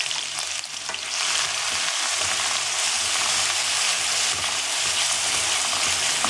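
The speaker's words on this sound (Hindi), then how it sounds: "थोड़ा सा ब्राउनिश जैसे जीरा हो जाए उसके अंदर हम ये पकाएंगे।" Cumin seeds fry in a hot pan for a soya chunk curry, giving a loud, continuous crackling sizzle that holds steady throughout with no talk.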